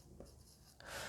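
A few short pen scratches on paper in a maths lesson, a brief stroke followed by a slightly louder scribble, close and quiet, with no voices.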